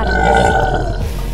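A hippopotamus gives one deep, loud, burp-like grunt up close. It lasts about a second and then cuts off.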